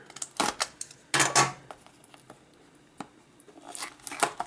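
A leather keyboard case for a Nexus 7 (2013) tablet is unboxed, with bursts of crinkling packaging, sliding cardboard and tearing, and sharp taps and clicks in between, all close up and without talk.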